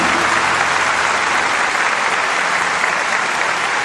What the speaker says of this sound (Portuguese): Parabéns. Aplaude Jesus.